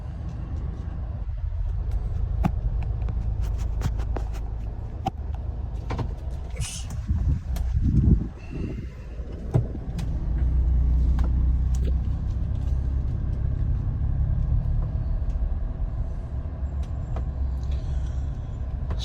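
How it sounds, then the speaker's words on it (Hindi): A car reverses on a road in Noida during flooding. Its low engine rumble holds steady for the whole stretch, with scattered clicks and a brief thud midway, and no one speaks. "रिवर्स कर रहा हूँ गाड़ी"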